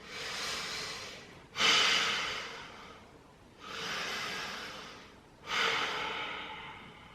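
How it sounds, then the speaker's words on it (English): Slow, deep breathing while holding a yoga pose, two long whooshing inhales each followed by a softer, fading exhale, close and alone with no talking. "Take a couple breaths here."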